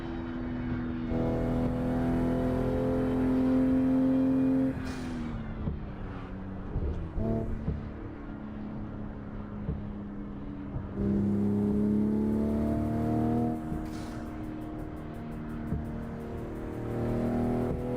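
Car engine sound comes from the racing game Assetto Corsa played on a home simulator rig. The engine revs climb and drop through repeated gear changes, with a loud, continuous whine and some quieter lulls.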